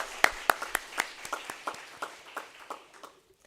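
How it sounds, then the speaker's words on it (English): Audience applause at a law school negotiation competition closing ceremony in Sri Lanka, a patter of sharp claps from a modest crowd that starts strong and gradually thins out, fading to scattered claps at the end. "I think we can give him another big round of applause."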